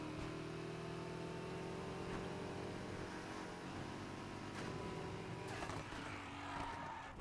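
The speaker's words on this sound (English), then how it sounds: "That Mustang moving pretty good, boy." A Mustang engine roaring in the racing game Need for Speed Heat, a sustained drone that climbs through rising revs and shifts, loud and continuous with no talk.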